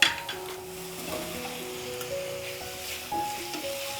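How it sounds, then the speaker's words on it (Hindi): Boiled potatoes sizzle in a hot spiced pan as they are stirred for a vrat-style aloo matar sabji, a soft steady frying hiss with faint utensil scrapes, no talking. "इसको मिक्स करने के बाद मैं इसमें डालूँगी हमारे उबले हुए आलू"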